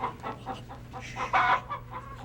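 A rooster makes hen-like clucking calls, a few short rhythmic bursts with one louder, drawn-out cluck near the end, close by and without any talk.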